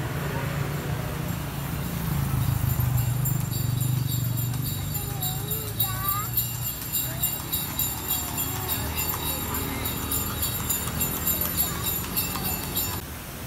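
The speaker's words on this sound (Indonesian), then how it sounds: "Kuda lewat." A horse's hooves clip-clop past at Taman 0 Kilometer in Tulungagung, a rhythmic clatter of steady hoofbeats over outdoor street ambience with a low engine rumble early on.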